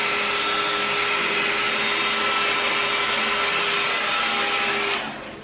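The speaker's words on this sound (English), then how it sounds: "Okay, so all blow dried." A hair dryer blows steadily and loudly at close range while styling curtain bangs, a constant airy roar that cuts off abruptly near the end.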